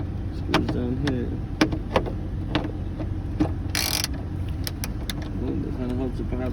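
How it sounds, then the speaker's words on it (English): Small ratchet with a 7mm socket loosening little screws on a 2005 Chevy Trailblazer instrument cluster, giving sharp close clicks and brief ticking bursts scattered over a steady background hum, with a short louder rasp near the middle. "Well, that kind of helps if I have the ratchet going the right way."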